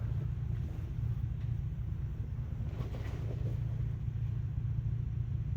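A Ford Bronco crawls off-road over rocks on the Beasley Knob trail in the Chattahoochee National Forest. A steady, low engine rumble droans on throughout, mixed with wind buffeting the microphone.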